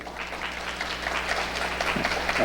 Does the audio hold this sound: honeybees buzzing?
no